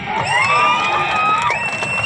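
A crowd at a political meeting in Peddapalli, India, cheers and whoops loudly, with high shouting voices sustained throughout, no distinct clapping standing out.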